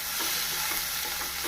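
Chickpea curry base, made with black chickpeas, sautéing and being stirred in a pan, giving a steady close hiss with soft rhythmic scraping strokes and no talk.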